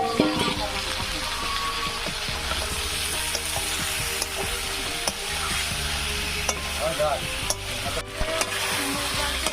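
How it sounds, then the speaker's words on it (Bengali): Boiled potatoes and green plantain stir-fried in a spice paste for a Bengali fish curry with green banana, with a steady close sizzle and repeated stirring scrapes throughout. "তখন আলু সিদ্ধ কলা সিদ্ধ দিয়ে দেবো, দিয়ে এদিকে একটু কষা নেব"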